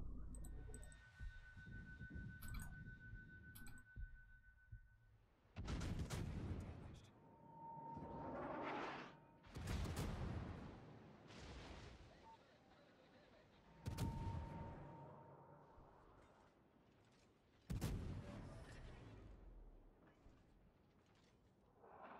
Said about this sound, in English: Who's near enough to me to be getting shot at by my secondaries?